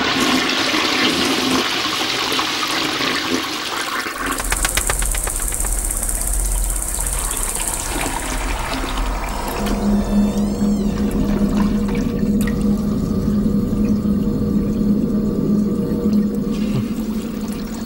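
A household toilet with a faulty flush lets go a loud, close rush of water that gurgles and drains, then settles into a steady refilling hiss that runs to the end.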